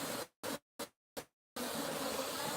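Bees buzz around honeycomb in a horse stall, a faint continuous hum interrupted by several abrupt cuts of complete silence before the buzzing resumes steadily.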